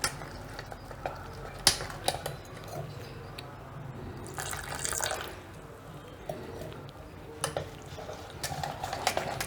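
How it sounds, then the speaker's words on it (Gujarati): Sweet pudla batter is stirred in a bowl to work out lumps, soft wet sloshing with light clinks of a spoon against the dish, quiet and close. "આપણે આમાં ગાંઠા ના રહેવા જોઈએ એકદમ મિક્સ કરવાનું છે"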